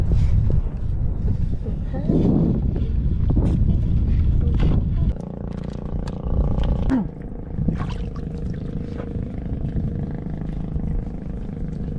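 Heavy wind buffets the microphone in loud, rough gusts, with a boat engine humming underneath and a voice speaking briefly partway through.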